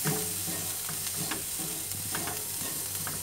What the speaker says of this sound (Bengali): ধনে পাতা দেওয়ার পর এটাকে আমি আবারও মিক্স করে নেব